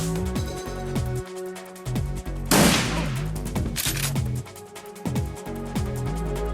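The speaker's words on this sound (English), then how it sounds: "They just tossed a grenade into us." Grenade blast and gunfire in the Shadowrun Returns video game: a broad explosive burst in the middle, then a second sharp blast, with rapid shots and game music running throughout.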